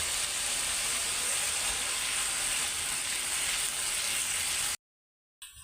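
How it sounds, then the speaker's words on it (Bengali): Mixed vegetables with garam masala and spices being stirred in a hot pan give a steady, loud sizzle and hiss that runs unbroken, then cuts to silence before a brief burst returns. "এখন সবজিটা দিয়ে একটু ভালো করে নাড়াচাড়া কষাই নিব।"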